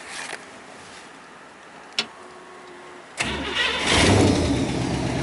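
A 1929 Ford Model A highboy roadster with an electric fuel pump starting up: a couple of clicks, a brief cranking, then the engine catches and settles into a steady rough idle, close and loud.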